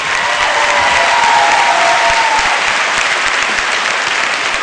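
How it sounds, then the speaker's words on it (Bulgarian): A studio audience at a televised ballroom dance competition applauds the jury, a thick, continuous wash of clapping that stays loud and even throughout. "Аплодисменти за уважаемото жури."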